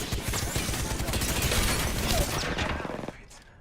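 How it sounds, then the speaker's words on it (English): Heavy gunfire in a shooter video game: a steady, dense stream of shots and impacts that holds strong, then thins out and fades near the end. "I am taking fire, friends."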